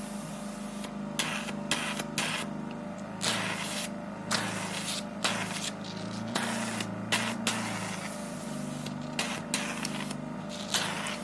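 An Aquasure facial device whirs steadily with strong suction, a continuous motor drone broken by repeated bursts of hissing, spraying noise as it is worked over the skin, close and even throughout.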